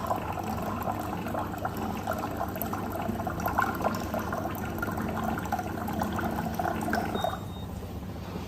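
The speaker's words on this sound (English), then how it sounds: "Okay, so it's filling up the glass." Water pours steadily into a glass, a continuous liquid rush filling the space close by for several seconds before easing slightly near the end.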